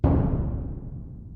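A single bass drum hit from a percussion ensemble, tuned slightly differently from its partner drum, booms loud and close, then rings out in a long, slowly fading low decay.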